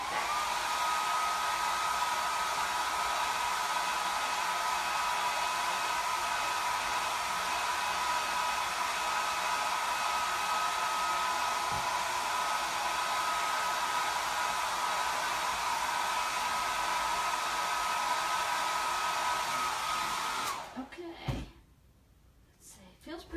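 A hair dryer blows steadily and loudly for about twenty seconds, drying chalk paste on a chalkboard, then cuts off abruptly, followed by a few faint bumps.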